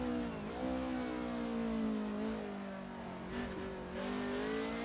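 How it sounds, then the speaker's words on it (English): A raspy, high-revving four-cylinder engine of a Group A BMW M3 touring car lapping the Nürburgring in a sim racing game, revving high and steady, pitch dipping briefly between gears, with no talk. "this has got that beautiful raspy 4-cylinder high revving BMW engine"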